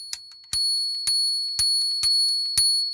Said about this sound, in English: Click that and there's a bell.